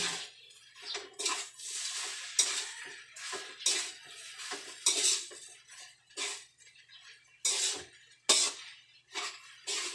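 Leftover rice being stirred into garlic fried rice in a pan, with repeated scraping and clinking strokes of a utensil against the metal in an irregular rhythm, close and moderately loud, with no talk.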